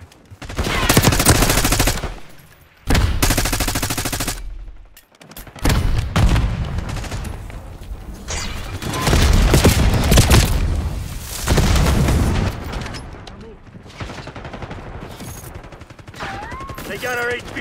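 Gunfire in Call of Duty: Black Ops 6 multiplayer, with loud bursts of automatic weapon fire and booming shots coming in repeated volleys, broken by short pauses and with game voices mixed in.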